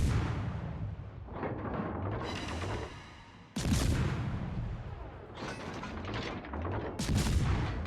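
Ship guns boom repeatedly in a naval battle video game, heavy deep blasts arriving in spaced salvos with rumbling tails and a mechanical undertone.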